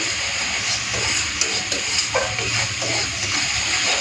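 Spice paste of Kashmiri chilli powder, coriander, cumin, sugar and salt frying in a pan for a rohu fish curry with potatoes, producing a loud, continuous steamy hiss with faint stirring knocks.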